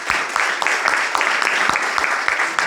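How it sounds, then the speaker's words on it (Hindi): An audience at a business plan presentation claps together in a loud, steady, rhythmic beat, with quick sharp claps repeating evenly close at hand. "तो जोरदार ताली होनी चाहिए"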